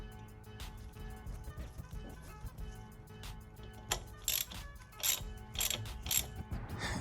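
A ratchet clicks steadily as an NPT oil feed fitting is screwed into a Mustang turbo during an On3 turbo kit install, close metallic ticks in quick repeated runs.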